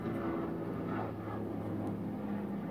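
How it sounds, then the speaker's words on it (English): A propeller or jet airplane passes overhead at a distance, its steady low rumble and drone filling the background continuously without any speech. "There is an airplane."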